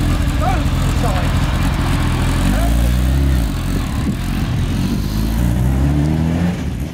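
A road-legal Cup 200 race car in the touring-car style roars loudly and steadily inside a workshop, its engine note rising in repeated revving sweeps as it shifts through gears, with a brief dip midway before climbing again.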